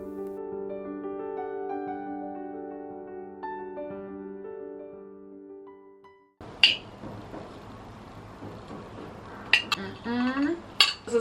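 After a stretch of soft music, a utensil clinks and scrapes against a bowl while a meal is stirred, sharp and close in irregular bursts.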